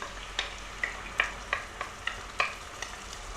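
Tomato paste frying in a pot is stirred with a spoon, about eight rhythmic scraping clacks against a soft low sizzle, close and fairly quiet.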